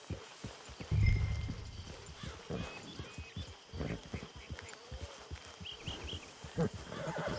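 Horse hooves clip-clop in a rhythmic, moderately close stream through a video game scene, with a brief whinny early on and faint insect-like buzzing and voices in the background.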